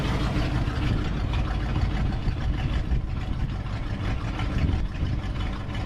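A 1966 Ford F-250 truck engine idles with the choke turned off, a steady close rumble with a busy, slightly uneven chugging texture that holds throughout and has no voices over it.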